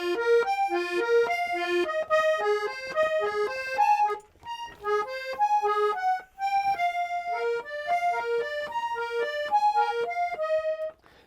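An accordion playing a soundtrack melody with chords underneath, a reedy sustained tune with fluttering notes, close and solo, with brief pauses between phrases.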